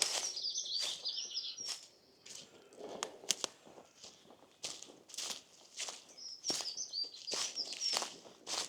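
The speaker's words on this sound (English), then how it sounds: "That's a little goldcrest." A goldcrest sings high, thin twittering phrases in spring woodland, faint and distant, repeated a few times amid footsteps and rustling nearby.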